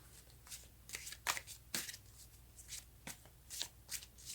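Tarot cards are shuffled by hand in short, irregular bursts of riffling and flicking, close and fairly quiet over a low steady hum, with no voices.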